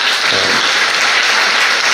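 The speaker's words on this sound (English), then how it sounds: "I would like to request all of you to give a big applause" Audience at a Gandhi Prathistana book-release event giving a big round of applause, steady loud clapping from a full hall with no break.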